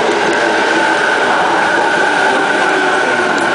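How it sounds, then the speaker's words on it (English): Very crowded commuter train at a station in Japan just after an earthquake, heard as a steady, loud rail rumble and carriage noise running throughout with no clear talk. "The train's very, very crowded"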